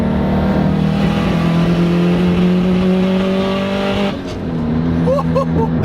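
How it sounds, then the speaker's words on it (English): A misfiring 500-horsepower Subaru engine revs hard, its loud droning tone rough and uneven, then drops suddenly before a few short electronic beeps sound. "the Subaru's misfiring again. Listen to how bad this is."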